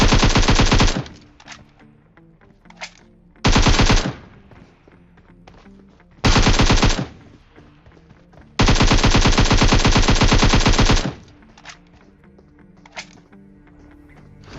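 Gunfire in the battle-royale video game PUBG, with four loud automatic bursts, the last one long and sustained, separated by quieter stretches of in-game ambience and faint distant shots.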